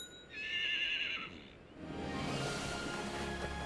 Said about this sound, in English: this stallion and his harem are Camargue horses, also known as the horses of the sea